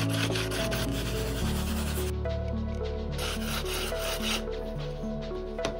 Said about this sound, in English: The snapped edges are straight and sharp and need to be sanded.